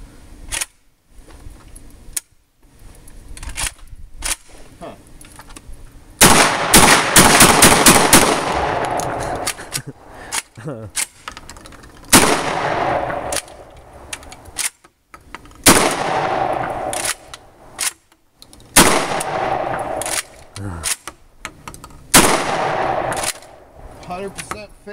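Saiga 12 shotgun fired rapidly from the hip with a large supply of ammunition, loud sharp blasts in quick bursts and single shots spread across the clip, close by, with voices in the background.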